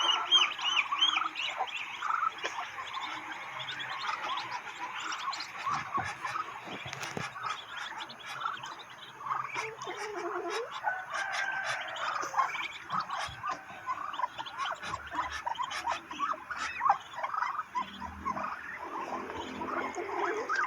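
In a backyard, a mother hen keeps close to her five young chicks and clucks at them. The low, busy fowl calls run on and off for about twenty seconds under faint outdoor background noise, with no voices.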